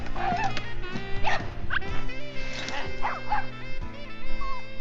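A dog in a TV episode yips and barks in short, repeated bursts with some whimpering, mixed with background music and scene sounds at moderate loudness.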